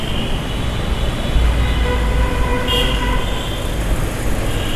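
Steady low rumble of a metro train with broadband noise throughout, a brief higher tonal screech partway through.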